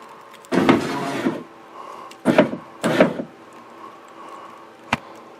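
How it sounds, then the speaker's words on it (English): A Toyota Solara power window being worked by hand with the door panel off: three short mechanical grinding bursts, the first longest, then a single sharp click, close up with no talking. "So let's get this on there and then we'll get this window moving."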